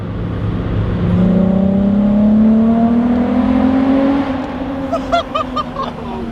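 A Volkswagen Corrado VR6 engine revs hard, rising in pitch as it accelerates in a tunnel and holding a loud, resonant drone before easing off, with a few short chirps near the end.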